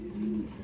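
A pearl-eyed pigeon gives a single short, low, soft coo, close by and alone.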